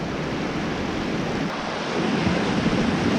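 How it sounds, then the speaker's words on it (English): Steady, loud wind roars across a trout stream, gusting into the microphone as broadband rushing noise that swells slightly louder toward the end, with no voices. "the wind is grabbing my leader while I'm keeping it off the surface"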